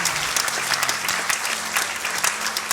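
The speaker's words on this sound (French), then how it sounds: "on t'applaudit tous" Continuous applause from a church congregation for a woman about to be baptized, steady and full for nearly three seconds with no voices over it.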